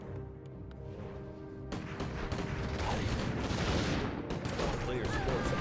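A Warcraft III battle between a Human army of riflemen and mortar teams and Night Elf forces: dense rifle fire and mortar explosions build into a loud, continuous clatter of overlapping shots and impacts.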